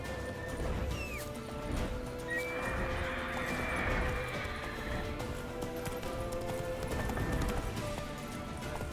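The horse Roach from The Witcher 3 neighs and whinnies over steady clip-clopping gallop hoofbeats, game music and ambient sound filling the background throughout.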